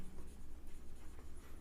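Pen scratching on a surface as someone writes below a figure during a physics lesson on Coulomb's law, a faint, steady scratch heard close up.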